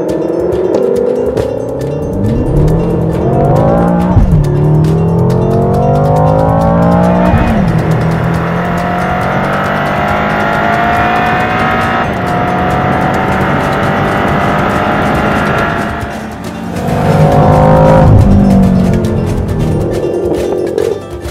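A 2013 BMW M5 or M6 coupe makes a launch control start at a race track. The engine is loud and close and rises in pitch through several gear changes, with brief tire noise and a second hard surge near the end.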